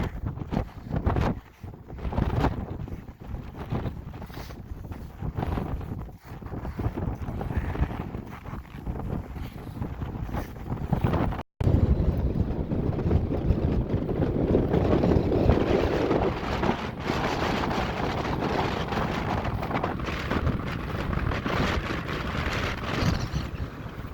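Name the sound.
strong wind gusts on a mountain saddle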